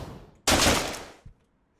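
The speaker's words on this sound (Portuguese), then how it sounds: "Um tiro!" Gunshot in the video game Deadbolt, a sudden loud blast that decays over about half a second and is followed by a small thud, then quiet.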